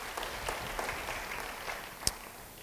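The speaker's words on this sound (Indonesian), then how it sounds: "Yang percaya beri tepuk tangan bagi dia." A church congregation applauds in a steady, faint wash of clapping that holds for a few seconds, with one sharper clap near the end.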